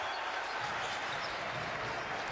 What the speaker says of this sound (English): A big cheer from the home fans.